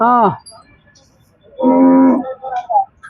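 Two loud, drawn-out cow moos, close by, with a quieter lowing sound in between and faint bleats near the end; Hallikar cattle in Mandya, Karnataka.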